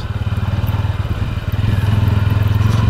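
A 2025 TVS Ronin motorcycle pulls away in first gear across rough, uneven open ground, its engine giving a loud, steady low thump that builds and holds firm, heard close with no talking.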